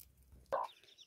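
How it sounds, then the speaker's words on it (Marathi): One brief near cluck from a chicken on a Maharashtra farm, a single short call standing out against quiet background. "ब्रुनो बघा कोंबड्या पण बसल्या."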